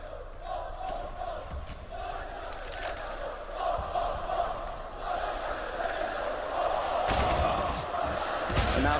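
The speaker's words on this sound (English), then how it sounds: "And now the crowd is here" Esports crowd at the PGL Major Krakow 2017 quarterfinal between Virtus.pro and North on Nuke, a continuous roaring arena crowd swelling louder toward the end, with a commentator's voice running over it.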